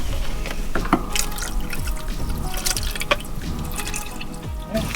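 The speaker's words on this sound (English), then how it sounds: "Then we just add the water" Water pours and splashes steadily into a container with squeezed lemon for several seconds, with small drips and clinks layered over a continuous liquid rush, inside an RV van.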